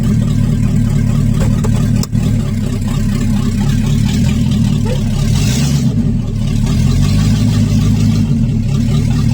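A 1974 Datsun car engine fires up and settles into a loud, steady idle close by, with a brief dip and slight rise in revs.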